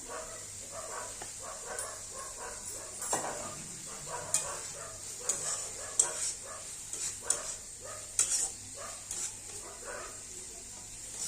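Dogs barking at night outdoors, scattered distant yaps and barks over a steady hiss, fairly faint with no clear talk.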